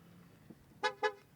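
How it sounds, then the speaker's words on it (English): A Ford Mustang Mach-E GT with its ignition on gives two short, close horn toots in quick succession after a faint click. "it was horning because the ignition is on"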